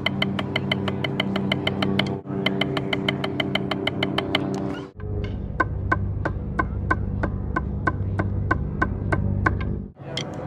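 Snare drum single strokes are played as a rudiment drill in groups of three with the 32nd note removed. The crisp, even, evenly spaced hits come in several phrases with short pauses between them, and no one talks.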